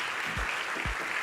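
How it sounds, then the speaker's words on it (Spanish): An audience in a theatre applauds panelists at a conference on the future of work, a dense, steady wash of clapping heard from a distance. "un aplauso a todos nuestros panelistas"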